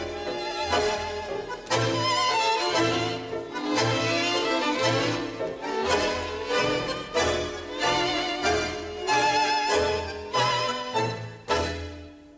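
Tango orchestra music with legato phrases cut by accented, syncopated rhythmic drive, playing loud and continuous with no talking.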